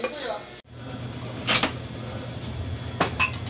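A pot lid clanks onto a boiling pot of langta cooked with pili, one sharp metallic knock followed by a couple of lighter clinks of metal cookware over a low kitchen background.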